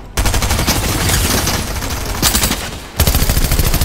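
Rapid automatic SMG gunfire in Fortnite, in sustained bursts, loud and close, with a brief pause before another burst of fast shots.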